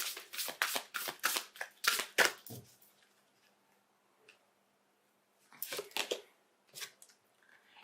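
A deck of tarot cards is shuffled close by in rapid riffling bursts, a busy flurry at first, then a pause before a few more shorter shuffles, soft and crisp with no talk.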